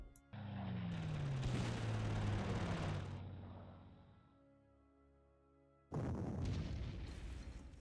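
Artillery bombardment in the Panzer Corps war strategy game, set in the 1940 Norway campaign: a deep rumbling boom that swells and slowly fades, followed by a second heavy blast near the end.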